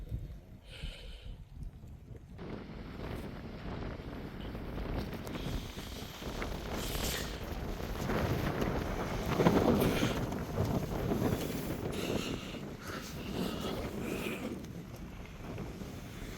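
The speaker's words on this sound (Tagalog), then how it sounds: "Umaga ng lakas pa rin ng hangin." Strong morning wind on a mountain campsite at Goat Cliff roars and buffets the microphone in rising and falling gusts, loud and close throughout.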